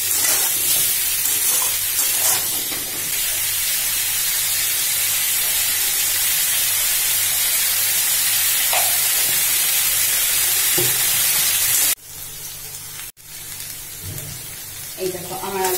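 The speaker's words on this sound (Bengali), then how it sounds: "এই দেখো আমার আলুটা ভাজা হয়ে গেছে" Potatoes frying in a pan give a loud, continuous, hissing sizzle that holds steady for about twelve seconds, then drops sharply, with a brief break and a quieter sputter afterward.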